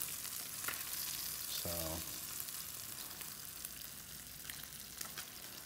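A spicy tilapia fillet with lime frying in a pan gives a steady, close sizzle throughout, with a brief tonal beep partway through and no talking.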